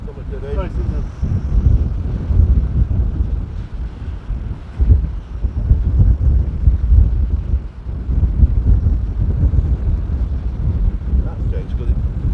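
Strong wind buffets the microphone on a coast at Preston Bullnose during a windy day of fishing, a constant loud low roar throughout, with people talking beneath it.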